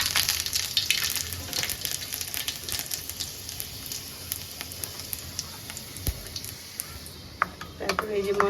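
Fenugreek seeds dropped into hot oil sizzle with a bright crackle that settles into a softer fizz, with a few utensil clinks near the end.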